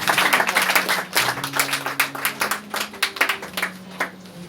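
Church congregation clapping and applauding the Lord, a dense, steady patter of many hands over roughly four seconds, with a sustained organ or keyboard chord humming underneath.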